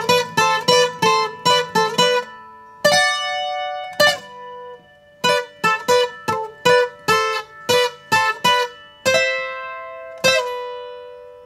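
A plucked requinto guitar melody in a high register, quick bright notes in phrases with short pauses, played solo and close with no voices.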